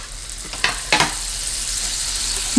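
Steady hissing sizzle of a tablespoon of butter in a preheated frying pan over low heat, with a couple of brief scraping sounds early on, close and continuous.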